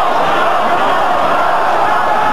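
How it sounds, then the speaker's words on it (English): A rugby crowd at the 1989 British Lions versus Australia second Test roars in support as a steady, loud wall of stadium noise that barely rises or falls over a couple of seconds. "Plenty of support coming from the crowd."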